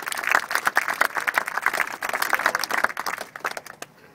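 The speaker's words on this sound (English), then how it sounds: "big round of applause for our counselor" Campers at a youth lacrosse camp give their counselor a round of applause, a brisk burst of dense hand clapping from a group that tapers off after about four seconds.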